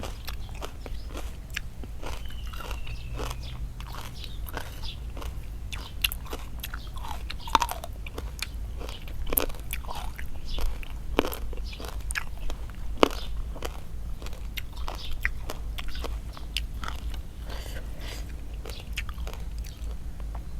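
Crunchy spicy giant squid salad is chewed close up, with sharp brittle crunches repeating in an irregular rhythm throughout.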